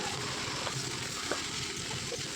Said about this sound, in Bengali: তেলাকচু গাছ আর আলু বেগুন এগুলো আমি তেলের উপরে দিয়ে দিলাম তো তেলের উপরে দেওয়ার পরে ভালো করে আমি কষিয়ে নিচ্ছি